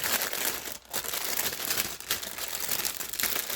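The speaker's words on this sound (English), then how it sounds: "A lot of bag crinkling." A plastic bag crinkling and rustling steadily up close while a diamond painting kit is unboxed, dense, loud and continuous, with two brief dips.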